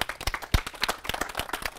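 Wedding guests in a TV comedy scene clap before the bouquet toss, light and uneven claps from a few people, with one sharp thump partway through and a faint murmur of voices underneath.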